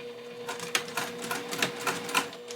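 A sewing machine back stitching the top of a seam on a fabric clutch, a quick run of rapid mechanical needle clatter, close and fairly loud, with no talking.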